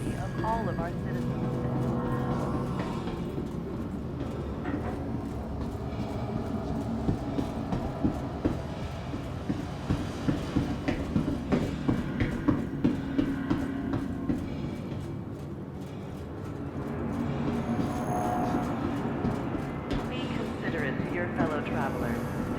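A metro train rolls along in the video game Star Citizen, with a continuous low rumble and rhythmic clicking of wheels on rails, the train swelling and fading, and a voice talking over it.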